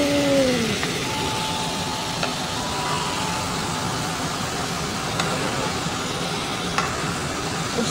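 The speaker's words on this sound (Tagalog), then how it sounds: "Lagyan na natin ng kalabasa at ang sitaw at paghalo-haloin." Squash and string beans are stirred in a hot pan, giving a steady close sizzle and frying hiss with soft scraping throughout, no voices.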